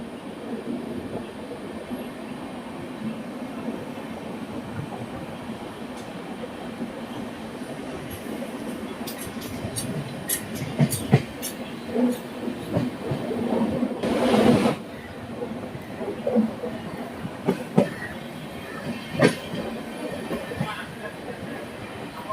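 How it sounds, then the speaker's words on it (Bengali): The 15483 Sikkim Mahananda Express rolls along a curving mountain line through the Duars toward Siliguri. Its steady rumble swells into rattling, clattering wheel noise and a brief rushing surge, with faint voices now and then. "দুর্দান্ত কার্ভ নিয়ে ছুটে চলেছে ট্রেনটি"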